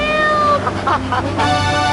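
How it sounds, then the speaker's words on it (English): A cat meows a few times in short, drawn-out cries inside a GTA 3 radio advert for a Pogo game. The meows are loud and clear over a steady tonal music bed. "Rescue a cat out of that tree with your banana cannon, Pogo."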